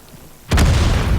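An artillery shell bursts in World of Tanks, a sudden loud boom that hits after a quiet moment and leaves a heavy, rumbling low-end tail.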